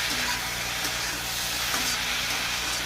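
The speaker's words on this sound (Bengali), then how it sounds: "এরকম সামান্য চিনি দিয়ে আবার এটাকে দিয়ে কষাবো। এইভাবে কষাবো" Curry sautéing in a pan with a pinch of sugar gives a continuous close sizzle with faint scraping and stirring, steady and unbroken, with no one talking.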